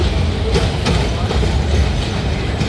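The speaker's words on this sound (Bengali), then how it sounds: "টঙ্গীর প্ল্যাটফর্ম থেকে ট্রেনটি এই মুহূর্তে হাঁটে হাঁটে পা পা করে ঢাকার উদ্দেশ্যে চলে গেল" A train pulls slowly out of Tongi railway station platform, its loud continuous rumble close by, with rhythmic clickety-clack wheel knocks and faint squeals over the heavy low roar.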